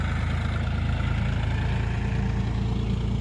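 A John Deere 5305 tractor engine runs steadily at close range, a continuous low rumble with a fairly quiet, even tone and no speech over it.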